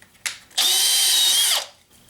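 A Makita XPH07 brushless 18V hammer drill whines loudly for about a second while boring into a 6x6 wooden beam, then stops abruptly as a depth rod halts it, with a short tool click just before.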